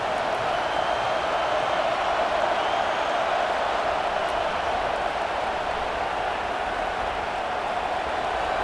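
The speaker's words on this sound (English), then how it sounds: "And here comes the noise" A stadium crowd roars in College Football 26 during an Alabama vs. LSU simulation, a steady, unbroken wash of cheering that holds at one loud level throughout.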